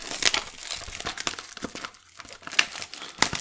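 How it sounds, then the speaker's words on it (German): Plastic foil wrap is torn open on a Panini FIFA 365 Adrenalyn XL 2019 blaster box, giving close, crisp crinkling and crackling with sharp snaps and a brief lull midway. "Müssen wir die Folie mal aufkriegen."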